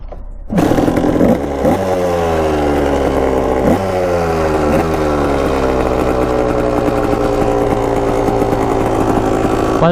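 A cheap, neglected dirt bike engine fires up after a moment of quiet and settles into a loud, raspy, buzzing idle with several blips of the throttle, close by.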